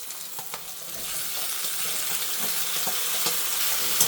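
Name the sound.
pasta frying and being stirred in a pan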